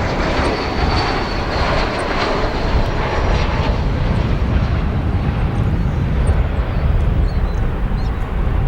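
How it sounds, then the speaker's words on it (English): An American Airlines Airbus A321 touches down in a puff of tire smoke at Chicago O'Hare, a loud, steady broadband roar of engines and rolling that holds close and even throughout, with no voices. "Start off there with a nice smoky touchdown with our good, nice, crisp audio. American Airlines Flight 2095 on Airbus A321."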